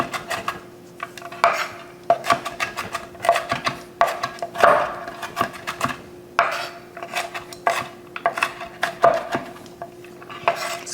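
Knife work on a board while preparing a crab pasta salad: irregular bursts of close chopping and clattering against the surface, with rhythmic runs of rapid cuts and brief pauses, moderately loud and with no voices.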